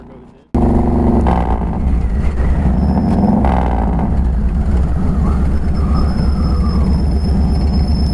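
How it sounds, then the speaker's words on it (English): A 1997 motorcycle engine drones loud and steady under wind and riding noise, with someone talking over it and the pitch shifting as he blips the throttle before a downshift. "Hear that rev just right at the end?"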